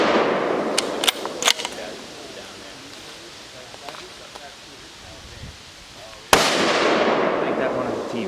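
A Ruger Scout rifle shot hits an exploding target outdoors, with a sudden loud blast near the end followed by a sustained noisy tail, after sharp cracks and rustling earlier under background voices.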